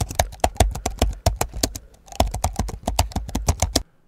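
Rapid typewriter keystrokes clatter in an uneven burst of sharp clicks, pausing briefly near the midpoint before resuming, then stopping abruptly; close and crisp, added as a sound effect for an on-screen title, with no voices.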